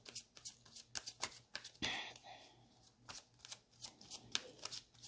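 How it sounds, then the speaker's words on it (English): Romance Angels love oracle cards being shuffled close up, a series of crisp riffling bursts and soft slaps over a low steady hum, with one longer riffle midway. "I'm going to pull some love oracle cards."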